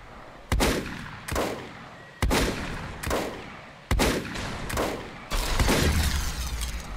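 Gunfire in the video game Volcanoids, five sharp, loud reports spaced about a second apart, each with a decaying tail, the last followed by a longer rumbling burst.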